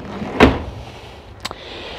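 A large pots-and-pans drawer in the kitchen of a 2010 Jayco Jay Flight 24FBS travel trailer slides with one quick, solid sliding thump, then a sharper short knock a second later, in a quiet interior.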